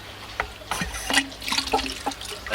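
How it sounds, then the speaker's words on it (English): Water runs through a freshly opened gate valve, splashing and trickling in uneven bursts, up close and fairly clear. "I'm just going to open up the gate valve"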